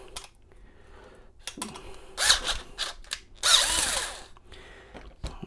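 A power drill bores into the ignition lock cylinder of a 2005-2006 Chevrolet Equinox, with two sustained high-pitched whirring bursts close by, separated by brief clicks and handling noises.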